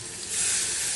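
Water poured into a pan of brinjal curry fried down in oil, with no garlic or onion, raises a loud steady sizzle and steamy hiss that swells after a moment and holds.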